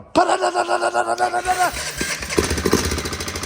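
A Honda FourTrax 300 quad engine runs right after a valve adjustment, its loud, close, rapid chugging beat pulsing steadily throughout, with voices partly audible over it.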